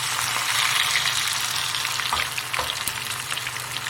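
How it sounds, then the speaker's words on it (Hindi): Masala-coated fish fillets fry on low heat in a steady, dense, hissing sizzle that stays even and close throughout, with a couple of faint taps and no voices. "अब इसको आप हल्की आंच पर फ्राई कीजिएगा।"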